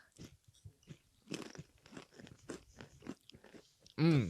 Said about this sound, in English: Oh, they're gonna hear a big crunch.